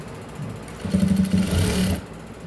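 Sewing machine stitching a lined blouse, a short burst of fast whirring that rises for about a second and then stops, close and alone.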